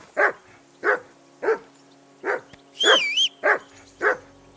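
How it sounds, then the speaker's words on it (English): A dog in the video game Kingdom Come Deliverance II barks seven times in a steady rhythm, each bark loud and close, with a brief whistle-like whine overlapping one bark near the end. "Henry, call that dog to heel"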